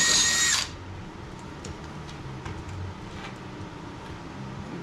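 A power drill whines loudly for a brief burst, then stops, leaving quiet background with a few faint clicks and knocks.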